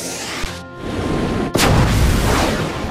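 Fire Tornado shot in the football video game Inazuma Eleven Strikers: a sharp burst followed by a loud booming whoosh that sustains, with a second impact cracking in partway through.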